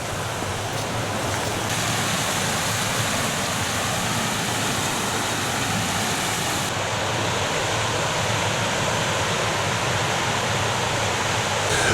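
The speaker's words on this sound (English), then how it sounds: "Cauldron Snout is my favourite set of waterfalls I've seen in the North Pennines" Cauldron Snout, a series of cascading waterfalls in the North Pennines, roars as a loud, unbroken broadband rush of falling water, close and continuous throughout with no speech.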